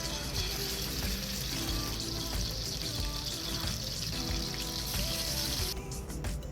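Pieces of spice-coated fish sizzle steadily in hot oil in a pan, a dense continuous crackle with a brief shift near the end.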